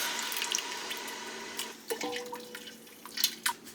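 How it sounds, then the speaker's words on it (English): Coconut milk poured into a soup pot for a vegan broccoli cheddar soup, a soft liquid pour with a few splashy drips and clinks near the end, no talking. "So in goes our 2 cups of coconut milk."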